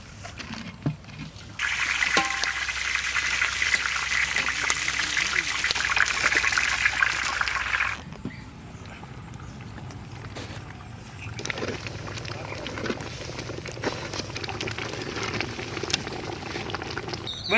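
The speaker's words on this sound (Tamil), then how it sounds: "உப்பு கல், மாங்காய் மிளகாயும் நல்லா அவியட்டு." A pot of rock salt, mango and chilli bubbles and boils, a loud rolling burble for several seconds that cuts off, followed by quieter bubbling and movement.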